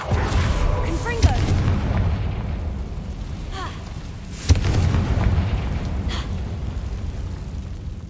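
Confringo fire spells burst in Hogwarts Legacy, two sharp booming blasts a few seconds apart, each trailing into a rumbling decay over a low ambient bed, with a player's voice briefly heard.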